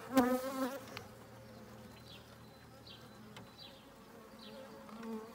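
A soft, steady buzz of honeybees hums in an open horizontal hive with many young bees on the frames, after a brief burst of a human voice at the start; light clicks and rustles occur throughout.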